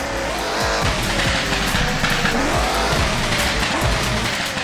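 A rock bouncer buggy with four-wheel steering in the Rigs of Rods driving simulator, a loud continuous engine roar with shifting revs and rumbling tire noise, steady and close with no talk.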